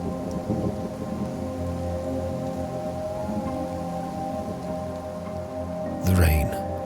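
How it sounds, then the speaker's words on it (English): Steady rainfall in the game Kenshi, a continuous close wash of rain with a brief louder burst near the end. "The rain washes over him, washes the anger away."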